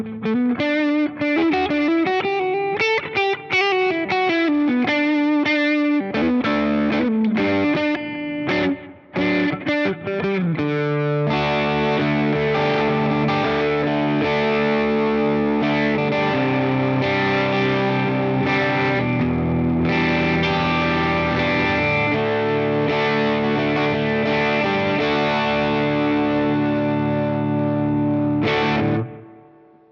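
Electric guitar played through a Fender Tone Master Pro on its Mason Jar Country preset: clean, bright twangy picked notes and chords with chorus shimmer, moving into sustained ringing chords, loud and alone.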